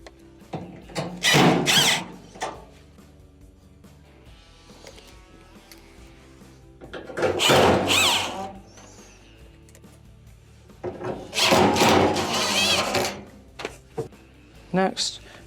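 Screws are driven back into a clothes dryer after a blower thermostat repair, heard as three loud bursts of power-tool whirring with quieter handling noises between them.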